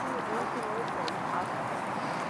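Horse trotting with a big extended stride, its hooves clip-clopping steadily at moderate distance under constant background noise, while someone talks over it.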